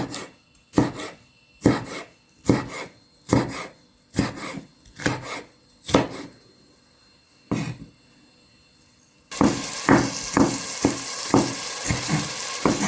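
Half a red kapya pepper chopped with a knife on a board, a steady series of crisp close chops roughly twice a second, then a denser, busier stretch of fast small cuts over louder background noise.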